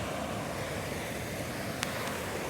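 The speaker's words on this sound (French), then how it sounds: "Le petit vent là, qui remonte de la rivière." Steady outdoor breeze blowing up from a river rushes past the microphone, a continuous soft roar with faint water-like wash underneath and no voices.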